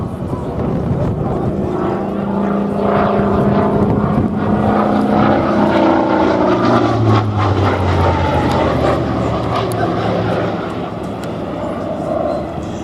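A Hawker Sea Fury FB 10 with its sleeve-valve Centaurus piston engine flies at the Flying Legends airshow. Its loud, continuous engine drone fills the air, and the pitch slides and shifts as the plane passes.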